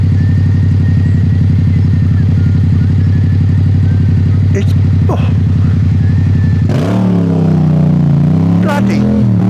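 A scooter idles with a steady putter in London traffic, then revs up and pulls away loudly close by, its pitch climbing and dipping while a person briefly speaks.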